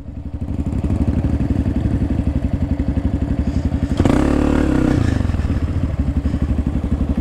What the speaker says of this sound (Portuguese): Ela vai embora ali a moto.